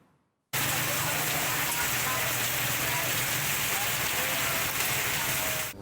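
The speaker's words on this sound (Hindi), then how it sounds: "पंजाब में बारिश का सिलसिला एक मरतबा फिर शुरू हो गया" Heavy rain pours in Punjab, a dense, steady hiss of drops hitting surfaces that starts abruptly and continues loud and unbroken to the end.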